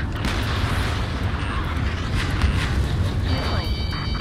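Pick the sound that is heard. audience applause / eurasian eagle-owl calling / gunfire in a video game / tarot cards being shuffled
gunfire in a video game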